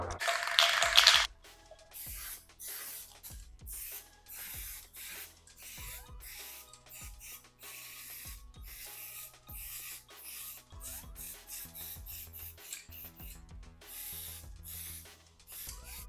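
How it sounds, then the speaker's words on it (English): A short loud hiss of black spray paint on a wood piece at the start, followed by quiet scattered taps, rubs and handling noises. "use some black spray paint and spray paint this piece black"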